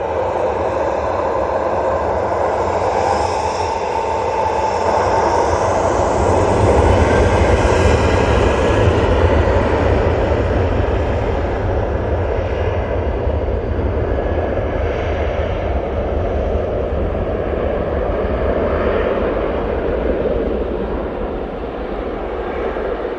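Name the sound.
airplane landing with reverse thrust at Manchester Airport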